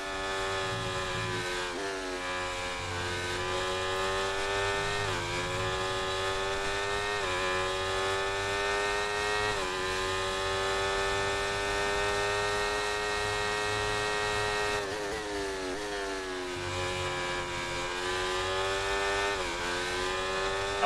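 An F1 car in the F1 24 racing game screams at a high, steady pitch, easing off and climbing again through repeated throttle lifts and gear changes, alone with no voices.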